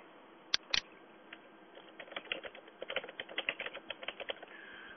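Fingers type on a computer keyboard while a domain name is entered during DNS setup on a Linux server, a couple of sharp isolated keystrokes followed by a quick irregular burst of close, quiet clicking.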